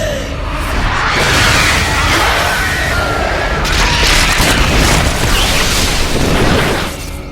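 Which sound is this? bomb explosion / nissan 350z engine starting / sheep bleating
bomb explosion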